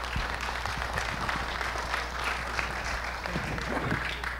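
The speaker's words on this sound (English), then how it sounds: "Big round of applause" An audience applauds a speaker after a nutrition presentation, a dense, even wash of clapping sustained for several seconds at moderate volume with no pauses.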